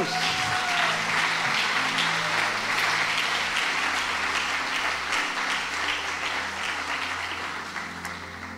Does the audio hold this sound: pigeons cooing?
no